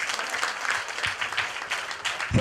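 An audience claps at a primary school excellence award ceremony, a dense, steady patter of many hands that carries on throughout without a break.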